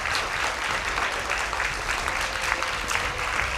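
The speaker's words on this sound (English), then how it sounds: "A round of applause to them" An audience at a school debate grand final applauds the winning team, a sustained, thick wash of many hands clapping, close and steady from start to finish with no speech on top.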